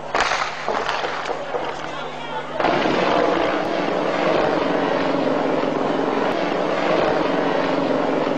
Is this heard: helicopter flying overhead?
yes